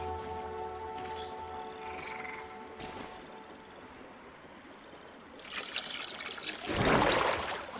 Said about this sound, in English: That must be where we need to pour the potion.